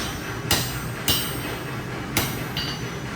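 Metal being hammered while it is bent, with three or four sharp ringing blows spaced irregularly over a low background hum, fairly close.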